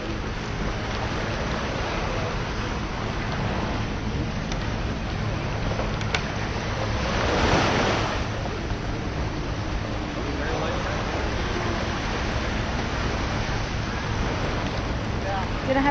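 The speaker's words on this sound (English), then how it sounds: "Here we are in the ocean in the Philippines. On this little boat." Ocean waves and wind around a small boat off the Philippines, a continuous rushing wash with a louder surge midway, wind buffeting the microphone throughout.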